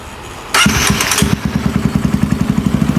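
A Honda Sonic 150 motorcycle engine catches with a loud burst of starter cranking, then settles into a close, steady idle with evenly spaced thumping pulses.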